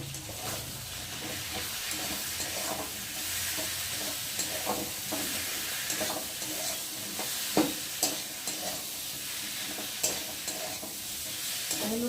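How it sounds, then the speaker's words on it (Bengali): Spice paste of ground coriander, cumin, turmeric and onion paste sautéing with green chilli and tomato in a pan, a continuous bright sizzle with intermittent stirring scrapes and spatters, with no talking. "ধনের গুঁড়ো জিরের গুঁড়ো বাটা বাটা পেঁয়াজ বাটা কাঁচা লঙ্কা আর টমেটো দিয়ে ভালো করে কষিয়ে নেব"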